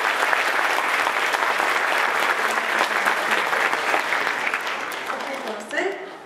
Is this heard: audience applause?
yes